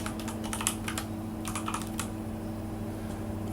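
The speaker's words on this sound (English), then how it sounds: "I'm going to type in Kuala Lumpur" Rapid typing on a computer keyboard while entering a destination name into a route planner for an electric-car road trip from Kuala Lumpur, with close, light key clicks in quick bursts over a steady background hum.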